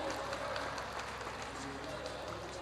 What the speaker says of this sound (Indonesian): Boleh berikan tepuk tangan yang paling meriah sekali lagi Bapak Ibu sekalian